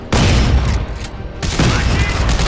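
Shotgun blasts from the video game Dead Space 3 boom loudly in quick succession, dense heavy gunfire filling the clip with a brief lull in the middle.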